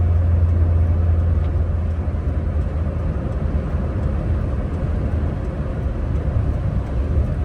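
Suzuki Cultus Limited Edition heard from inside while driving, a steady low engine drone with road and tyre noise, constant and fairly loud, no talking.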